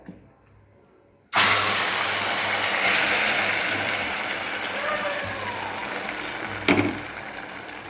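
Soaked sago poured into a hot pan starts abruptly after a brief near-silence, becoming a steady, fairly loud rushing hiss that holds and slowly eases, with a short bump near the end.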